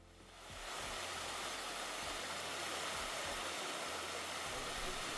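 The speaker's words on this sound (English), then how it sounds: "this rocky cascade is no simple water feature, but rather a majestic recreation of a naturally flowing current where its waters rush down from an unseen location" Rushing water from a multi-tiered rocky waterfall cascade in a Japanese garden, a steady, dense broadband roar that swells in within the first half-second and then holds loud and unbroken, with faint low rumbles beneath.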